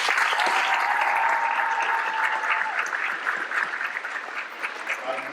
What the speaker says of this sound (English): Let's give the Ganders a round of applause.